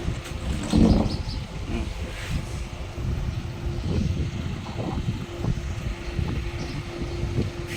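Wind blows across a house construction site where a wall's first pillar is about to be cast, a steady rumbling gust buffeting the microphone, with a louder surge near the start.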